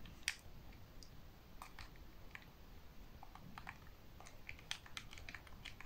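Game Boy Advance SP buttons pressed in a quick irregular run of small plastic clicks, faint and close, over a steady background hiss.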